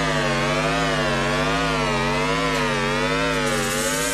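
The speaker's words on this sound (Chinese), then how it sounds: "刚才那个拉锯子的声音吗？" A sawing sound in a horror video game, loud and continuous, with a buzzing, wavering, siren-like harmonic drone that rises and falls steadily throughout.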